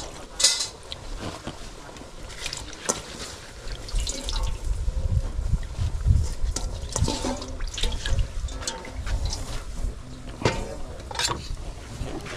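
Water splashes and gurgles steadily into a cooking pot with saluyot (jute leaves), with clinks and clatter of cookware mixed in, fairly close and continuous.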